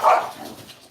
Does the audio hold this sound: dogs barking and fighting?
yes